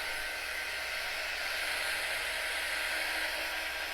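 A hair dryer blows on freshly painted wood pieces from a sunflower craft kit, a steady, loud, continuous whooshing hiss that holds level throughout with no other sounds.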